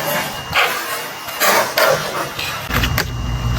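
A skateboard ollie landing wheels first with a clicking sound: a few sharp wooden clacks and rolling scrapes of wheels on pavement, close and fairly loud, over outdoor background noise.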